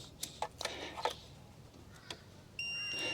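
A steady electronic beep from a multimeter continuity test on a feed wire starts near the end and holds, high-pitched and clear, after a few faint clicks and taps.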